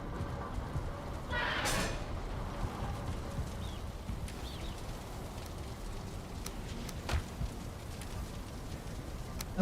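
Rain falls in the Valheim video game as a soft, steady wash with faint scattered patter, quiet and continuous, joined by a short louder rustle early on while the player replants a garden.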